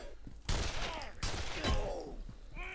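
Enemy gunfire in the game Condemned: Criminal Origins, with several loud, close shots cracking in quick succession, each followed by a ringing echo.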